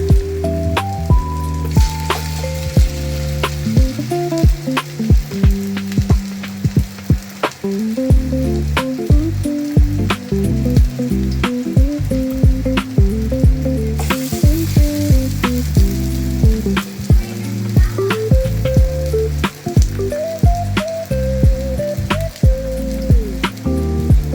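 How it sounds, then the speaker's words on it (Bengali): Small bora fritters fry in hot oil, a loud close continuous sizzle crackling with bright pops and spattering drips throughout, steady from start to end with no voices. "এখন ছোট ছোট করে দিয়ে দিচ্ছি বড়াগুলো।"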